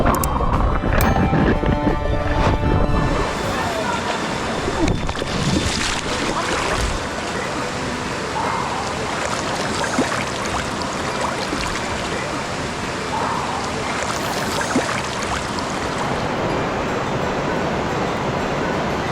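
Rough, fast-flowing river water in Bali churns and rushes steadily close by as someone wades through it, with splashes and broadband turbulence filling the whole stretch and no speech.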